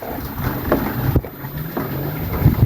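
A water pump runs with a steady low drone, heard up close with some rustling and handling noise, outdoors where the pump is lifting water.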